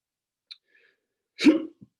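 One sharp, close hiccup from a person in an otherwise near-silent setting, preceded by a tiny click and followed by a faint soft catch.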